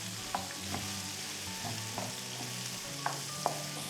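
Onion and four or five chillies fry in coconut oil for a Chettinad chicken masala, a steady close sizzle with a few sharp spatula clinks and stirring scrapes over the constant hiss.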